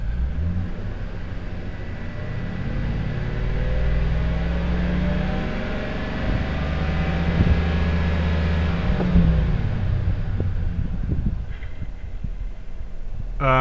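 A 2007 GMC Sierra Classic engine with a failing oil pressure sensor idles, then rises into a moderate rev and settles back down, a close, steady throbbing hum.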